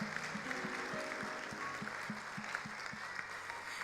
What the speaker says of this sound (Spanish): Dale ese fuerte aplauso.